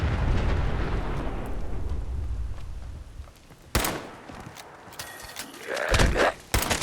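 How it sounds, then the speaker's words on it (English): In Fallout 4, a heavy blast booms out in a long low rumble that fades, then sharp cracks and thuds follow in quick bursts, with no voices over them. "Another big explosion."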